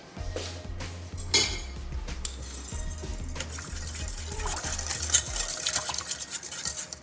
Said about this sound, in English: And you're gonna whisk it.